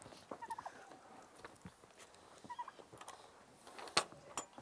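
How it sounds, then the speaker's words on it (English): Farm chickens spilling out of their coop, giving scattered clucks and soft calls at moderate distance, with a few sharper squawks near the end. "I'm gonna let these chickens out here."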